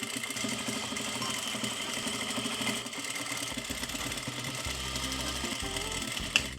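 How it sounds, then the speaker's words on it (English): A sewing machine stitches bias tape onto a corset, its motor running in a steady, close, rapid mechanical hum with no talking. "So now we slide over to this machine and we sew down some bias tape on top of it."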